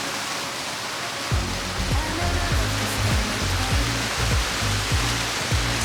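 A waterfall rushes in a steady broadband roar near a mountain viewpoint, with repeated low thumps and a voice underneath.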